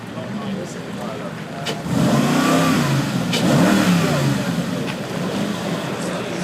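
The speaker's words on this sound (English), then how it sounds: "the McLaren 722 SLR. A very rare beast and a fantastic sounding one as well" A rare McLaren 722 SLR supercar revs at a classic and supercar show, its engine swelling in a loud, rising roar that holds and then eases, with people talking over it.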